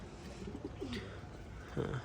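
Pigeons coo in low, soft bursts, one near the middle and a louder one near the end, against a faint background hum.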